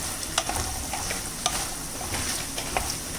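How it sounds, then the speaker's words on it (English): Kala chana prasad tossed with amchur powder in a pan sizzles continuously, and a spoon knocks and scrapes it in irregular strokes close up. "Now we will add little bit of amchur powder, okay, or dry mango powder, and mix it nicely."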